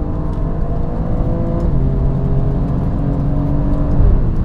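Alfa Romeo Giulia Quadrifoglio engine pulling hard through a gear change, a loud close steady drone with rising tones that shift once midway, no voices.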